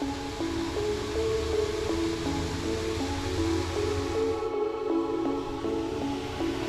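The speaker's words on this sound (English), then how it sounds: "what an absolutely amazing waterfall in the middle of the woods here" Cedarquist Falls, a waterfall in the woods near Ashtabula, Ohio, roars as a steady broadband wash of falling water, with faint tonal hum layered beneath.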